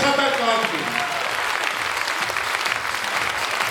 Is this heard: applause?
yes